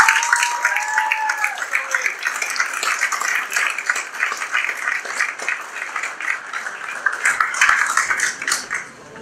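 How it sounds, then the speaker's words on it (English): Audience applause at a high school hall of fame induction: a crowd clapping continuously, with a few voices and whoops over it near the start. "Let's give him a big round of applause."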